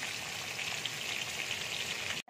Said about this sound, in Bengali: আমি তেলের মধ্যে মাছের মাথা আমি ভেজে নিচ্ছি।